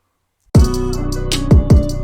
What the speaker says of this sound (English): And then with the synth bass instead of the 808.